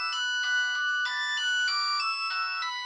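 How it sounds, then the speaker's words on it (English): Ringtone from a Doro HandlePlus 324GSM mobile phone plays alone, a bright electronic melody of repeating tonal notes in short phrases, steady and fairly close. "So I'll show you the ringtones now."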